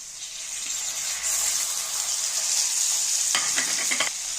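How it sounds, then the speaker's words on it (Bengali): Spice pastes of ginger, cumin and chilli with turmeric and chilli powder frying in a pan for Bengali fish head curry with potato, a steady close sizzle with a few stirring scrapes near the end, no talk. "এবারে মশলাগুলো সব দিয়ে দেব"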